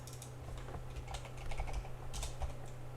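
Someone types code on a computer keyboard, a quick irregular run of close, soft key clicks over a low steady electrical hum.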